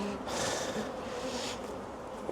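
Honeybees hum steadily at close range during a beehive inspection, a continuous buzz that swells briefly in the middle, with no talk.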